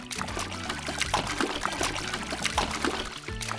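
In a children's toy game with a mermaid doll, water pours and dribbles steadily over a constant rhythmic backing, fairly quiet throughout and free of speech.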